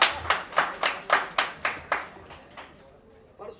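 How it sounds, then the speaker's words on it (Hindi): A stage audience at an occult awards show claps together in a steady unison rhythm, about nine sharp, evenly spaced beats. The claps then die away into quiet. "तालियां हो जाए तालियां।"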